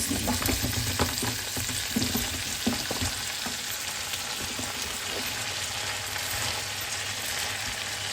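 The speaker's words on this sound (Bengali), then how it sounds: "এই যে পাতাকপি আর ছোট ছোট করে কেটে রাখা আলু দিয়ে দেবো" Cabbage and small chopped potato pieces fry in a pan with a steady, close, dense sizzle throughout, broken by a few soft stirring knocks early on. No one speaks.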